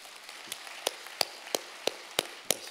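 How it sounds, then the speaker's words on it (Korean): A congregation claps for the church choir in slow, evenly spaced single claps, about seven in all, distinct and fairly close, with no talking. "노란 셔츠 입은 우리 성가대 박수 한번 하고"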